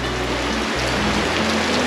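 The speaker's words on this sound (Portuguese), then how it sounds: "tá chovendo" Heavy rain pours down at Praia da Paixão beach in Bahia, a dense, steady hiss of water hitting surfaces without a break, loud and close.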